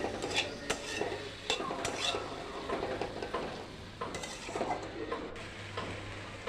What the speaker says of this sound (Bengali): ঢেঁড়স ভাজি লাল লাল করে ভাজি